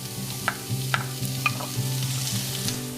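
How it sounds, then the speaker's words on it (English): Chopped shallots and garlic frying in melted butter, a steady close sizzle with periodic stirring scrapes and light clinks from the pan, no talk. "we're gonna throw in here our chopped salad and garlic"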